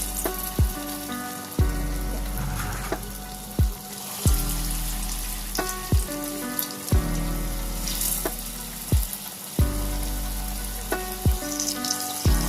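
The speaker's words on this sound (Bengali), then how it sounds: "তেল গরম হয়ে গেছে। ওর মধ্যে যে ডালটা ফেটিয়ে রেখেছিলাম ওই ডালের বড়া করে দিয়ে দিচ্ছি।" Flattened lentil fritters of khesari dal frying in hot oil, a continuous loud sizzle punctuated by about nine sharp clinks and taps of a utensil at regular intervals, with no talk.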